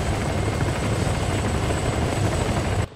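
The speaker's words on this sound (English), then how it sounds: "Get in the helicopters" Huey helicopter in a military video game, engine and rotors thudding in a loud, continuous close drone that cuts off abruptly at the end.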